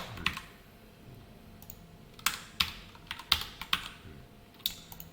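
Fast keystrokes on a computer keyboard while code is typed, clicking in short irregular bursts with brief pauses, close and fairly quiet, with no talking.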